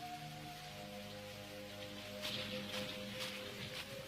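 Steady rain pours down during a night storm, a dense, even hiss running throughout beneath a soft sustained tone, with no voices.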